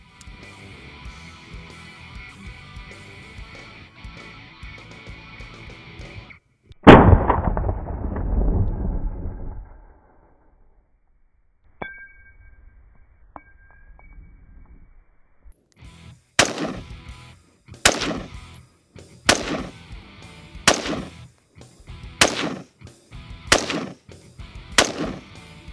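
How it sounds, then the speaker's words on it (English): Gunfire at a dummy target on an outdoor range in hot Nevada sun, Buggy 15 versus AK-47: one loud close shot with a long rumbling tail, then a rapid series of about eight sharp cracks in quick succession. "We're gonna take a few shots at the dummy on the left"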